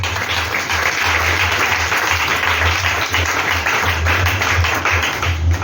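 A church congregation applauds to acclaim Jesus, with continuous loud clapping from a large crowd and faint voices mixed in.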